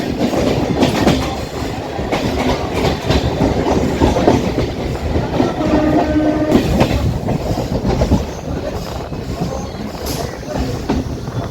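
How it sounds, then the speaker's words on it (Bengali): A Kolkata Chakrarail circular suburban train runs along the Ganges, its wagons rumbling loudly with rhythmic clickety-clack over the rails, a continuous close rolling roar with faint voices in the background. "যে গঙ্গার পাশ থেকে কন্টিনিউ ট্রেন যাচ্ছে।"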